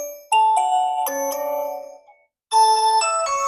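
Dual speakers of an Infinix Hot 50 Pro Plus phone play a bright chiming melody of ringing tones, a few clear notes, a short pause, then more notes, loud and close.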